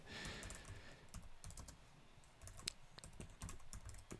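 Rapid keystrokes on a computer keyboard as text is entered, a steady run of close, crisp clicks with short pauses, heard alone without talk.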